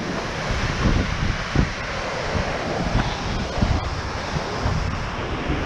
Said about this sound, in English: Some more waterfalls.